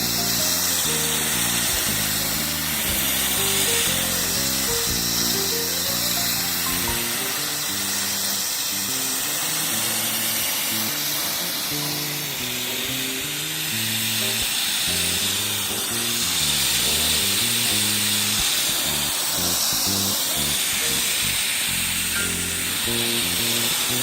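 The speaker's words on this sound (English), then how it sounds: "now I'll hit them with the hose" A garden hose sprays water steadily across nicotine-stained ceiling tiles from an old mid-century bathroom, a loud, unbroken hiss that runs on without pause.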